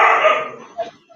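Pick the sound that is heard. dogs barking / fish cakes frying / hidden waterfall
dogs barking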